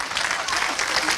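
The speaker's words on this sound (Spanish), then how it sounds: "Mire, el aplauso." Applause, steady and dense throughout, at moderate loudness, with no voices over it.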